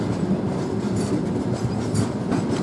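Loaded freight wagons full of coal roll past on rails, giving a steady dense rumble with faint clickety-clack, continuous and fairly loud throughout with no voices.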